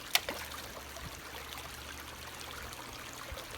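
Creek water flows in a steady, even rush outdoors, with a single sharp knock near the start and no voices.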